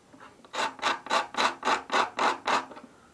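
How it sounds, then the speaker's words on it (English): A scalloped razor blade scrapes old glue off a 1954 Harmony Roy Rogers guitar in eight even, rhythmic rasping strokes, close and distinct, with no talking. "This is actually a scalloped razor blade. I bought these by mistake, but they work really well for scraping glue."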